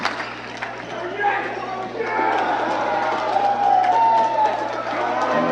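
A high school basketball crowd in a Punxsutawney gym roars and cheers, the noise swelling and then holding loud and sustained, with voices, whoops and squeaks mixed in.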